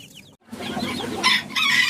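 Fancy chickens (Frizzle, Silkie and Sultan birds) cluck and call in a short burst, a few close, loud vocalizations following a brief pause.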